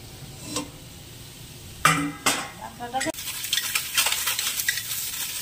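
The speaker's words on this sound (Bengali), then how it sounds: "হালকা করে নেড়ে নেব মিডিয়াম হিটে টমেটোগুলোকে" Tomatoes are stirred in a pan over medium heat with a utensil scraping and clinking against the metal, over a soft sizzle that grows steadier and busier toward the end.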